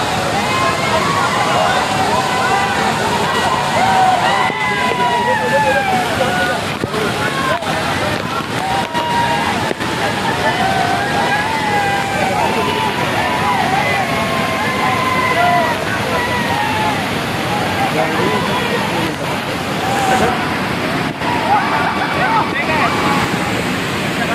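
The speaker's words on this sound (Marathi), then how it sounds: "आवाज येते की नाही माहिती नाही, कारण पाण्याचा प्रचंड प्रवाह आहे" Roaring water from Kerle waterfall in heavy flow, a dense continuous rush that stays loud and steady throughout, with wind buffeting the microphone and voices talking over it.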